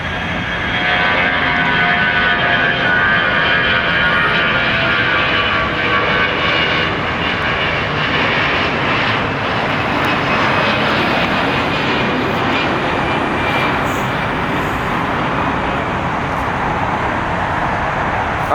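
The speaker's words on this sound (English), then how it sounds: "Got the A319 departing right now." Airbus A319 jet departing LAX, a loud steady engine roar and broad rushing noise that holds strong throughout.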